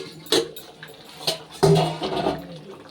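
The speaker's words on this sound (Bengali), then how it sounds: "5 থেকে 6 মিনিট পরে এবার ঢাকাটা খুলছি।" A pot lid lifted off chicken kosha as it starts to boil, giving a few sharp metallic clanks and a scrape followed by soft bubbling, close and without speech.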